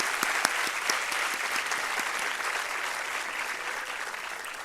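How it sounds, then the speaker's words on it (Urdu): A congregation claps inside a Catholic church, a sustained round of applause from many hands that stays fairly even, heard alone without speech. "بچوں کے لیے تالیاں بجائیں جی، جنہوں نے خاندانی زندگی کو ڈسپلے کیا ہے۔"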